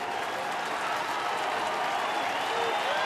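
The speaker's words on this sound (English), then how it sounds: "Crowd starting to pick it up now." A large crowd of more than 28,000 at a baseball stadium applauding and cheering in a steady, dense roar of clapping and voices that swells slightly toward the end.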